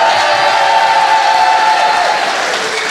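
A dense wash of crowd applause and cheering, steady and loud throughout, with no distinct voices standing out.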